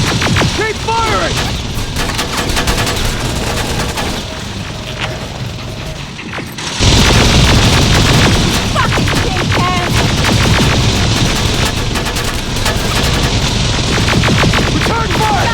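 Sustained gunfire in a firefight in the video game Terminator: Resistance, with dense rapid bursts and mechanical clatter that grow louder after a brief lull, while voices shout over the shooting.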